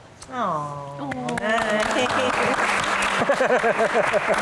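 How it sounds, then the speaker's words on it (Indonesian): An audience at a Q&A for GIGI: Forever in the Air breaks into sustained applause after a brief voice, the clapping steady and full with voices mixed in. "Oke, tepuk tangan lagi."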